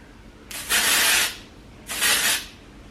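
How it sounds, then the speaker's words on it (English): Two separate hissing bursts of hair spray aimed at lifted hair roots during an at-home salon blowout, each lasting roughly a second and loud and close, with quiet room tone between them. "So I like to pull my roots up and spray, but like, never spray in one spot. Just continuous spray"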